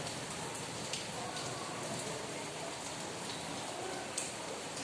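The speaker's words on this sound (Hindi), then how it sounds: "बारिश तेज होनी शुरू हो गई भाई, थोड़ा बादल भी बोल रहा है, बारिश भी हो रही है" Heavy rain pours steadily outdoors, a dense continuous hiss of drops with a couple of faint cracks but no clear thunder.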